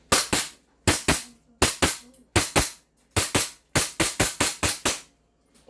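An airsoft Glock 17 Gen5 pistol fires about a dozen sharp, loud, close cracks, in quick pairs and then a faster string, each snapping off cleanly against near silence.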